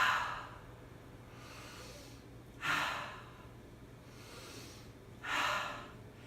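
Slow, deliberate breaths drawn in while inhaling Stress Away essential oil, three long airy inhales and sighs spaced a few seconds apart, close and soft against a quiet room hum.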